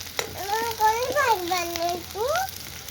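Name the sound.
onion frying in a pan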